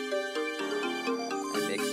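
Exported trap beat loop playing back, a dense electronic mix of punchy rhythmic hits and bright melodic tones in quick succession, heard alone without speech.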